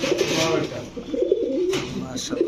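Racing pigeon cooing in low, throaty rolling phrases that repeat across a couple of seconds, fairly close, with a voice talking over it.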